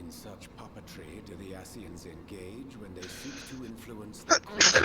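A single sharp, close sneeze bursts out right at the end, following a stretch of continuous talk from a game character's voice.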